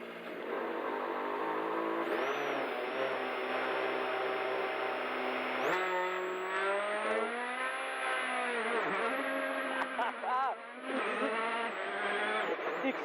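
A rally car engine from the WRC 24 video game revs hard and climbs through the gears, with steady high-pitched whine, gear-change dips and brief skidding, loud and continuous throughout with no talk.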